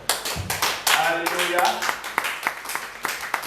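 Church congregation clapping along in rhythmic bursts of handclaps during a French-language service, with a voice speaking and calling out over the claps.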